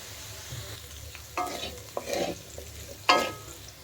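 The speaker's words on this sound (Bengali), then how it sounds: "ডাঁটা আলু একসাথে ভেজে নেব।" Drumstick stalks and potatoes frying together in a pan, with a quiet sizzle broken by a few louder scraping stirs, close and without talk.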